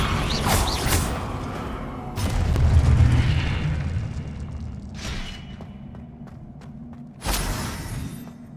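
Confringo fire spell explosions from Hogwarts Legacy, several heavy booms with crackling bursts, a rumbling one in the middle and a sharp blast near the end.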